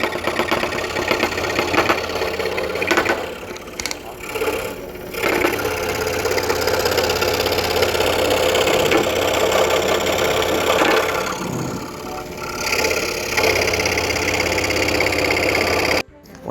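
Scroll saw blade making an internal cut in wood, a steady buzzing rattle of the reciprocating blade with an air blower, running continuously with brief dips before stopping at the end.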